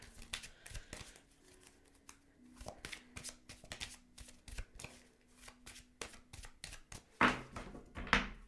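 Tarot cards being shuffled for a reading, a steady run of soft riffling flicks and slaps close by, then two sharper, louder card snaps near the end.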